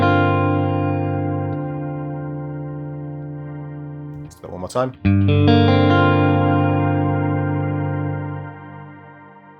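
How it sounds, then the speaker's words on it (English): Strymon Nightsky reverb pedal in regen mode stacking pitch-shifted octaves into a dense, organ-like sustained chord, broken midway by a brief burst of fresh notes before swelling back; a voice speaks briefly over it. "there we get that classic, almost organ-like sound of those pitches stacking up"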